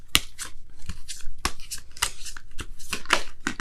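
Oracle cards shuffled and drawn by hand, with repeated sharp card flicks and riffles at an uneven rhythm, close and moderately loud, with no talking.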